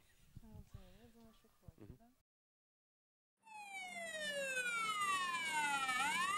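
An ambulance siren wails loud and close, its pitch sweeping up and down, after a stretch of speech and a brief silence.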